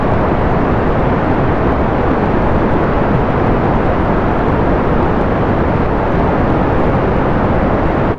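A rocket engine in Kerbal Space Program, flying on a Mun mission, roars at full thrust: a loud, unbroken broadband rumble that stays constant for the whole stretch.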